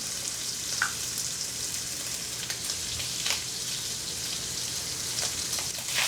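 Meat browning in a very hot pan while making a healthy pasta seasoned with crushed red pepper flakes, giving a steady, close sizzle with a few sharper crackles and spits, with no talking.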